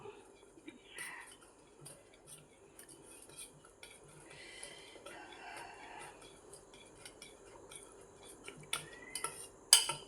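Bhajiya batter mixed in a bowl, quiet scattered clinks and scrapes of a spoon against the dish with soft stirring, growing busier toward the end, with faint talk now and then.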